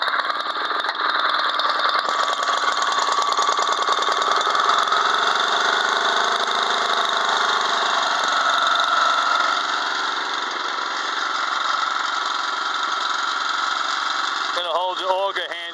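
A Honda HS80 snow blower engine runs steadily at idle, close and continuous, with a slight shift in tone partway and some handling clatter at the end.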